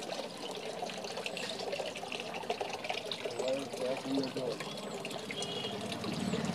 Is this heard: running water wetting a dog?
yes